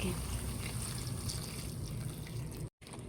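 Water trickles and splashes briefly into a cooking pot of vegetables, a soft continuous pour that cuts off near the end.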